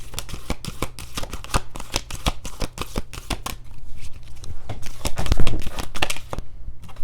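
Tarot cards being shuffled by hand, a rapid series of crisp riffling snaps and papery flutters in quick bursts, close and clear with no talking.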